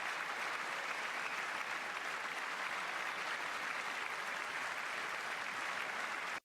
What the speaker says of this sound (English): And now the Republicans are applauding and standing.